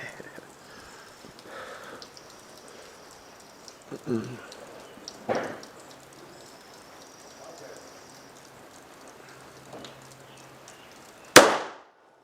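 A handgun fires a single sharp, loud shot at a shooting range near the end, after a quiet stretch of faint shuffling and low voices.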